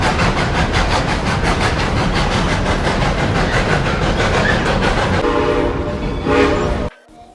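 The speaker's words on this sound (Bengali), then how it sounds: "তো ট্রেনটা আমাদের এখন ছেড়ে দিয়েছে" An open scenic tourist train runs on rails in Colorado, with a loud, continuous rumble of wheels and a rhythmic clatter over the joints, then the sound cuts off abruptly near the end.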